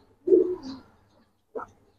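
Racer pigeons give a soft, low coo followed by a second brief coo after a pause, close by and clear against a quiet background.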